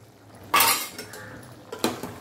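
A spoon scrapes and clinks against a cooking pot while chicken masala is stirred, with two sharp metallic knocks standing out close by over quiet background.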